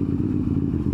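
A CFMoto 450 MT motorcycle engine running on a road, a steady close mid-pitched drone with a fine rhythmic clatter, loud and continuous with no talk.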